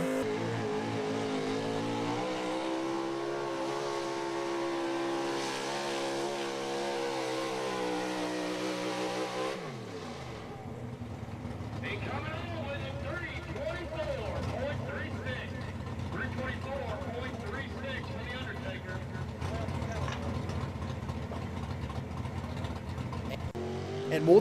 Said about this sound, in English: it just sounded like that truck could never grab a hold of anything going down the track